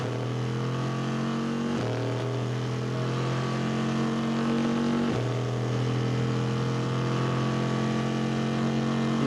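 Corvette C6R race car engine at Le Mans thundering past spectators at Arnage, a loud continuous roar with two distinct drops in pitch as the driver upshifts, no talk over it.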